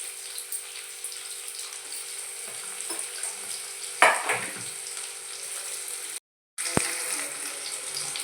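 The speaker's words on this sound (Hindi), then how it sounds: "उसके बाद प्याज डाला मैंने और" Onions fry with curry leaves in a pan for fried rice, giving a soft steady sizzle with a few scraping stirs and a louder burst in the middle, broken by a short silent gap near the end.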